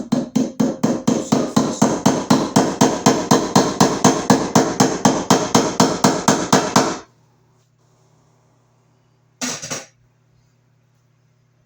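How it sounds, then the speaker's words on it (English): Rapid, steady hammering drives staples into wooden wall studs while wiring a recessed wall receptacle: about thirty sharp, close blows in a quick even rhythm for seven seconds, then a pause and one brief final burst. "I'll get a couple staples in here"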